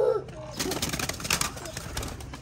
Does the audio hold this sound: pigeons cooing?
yes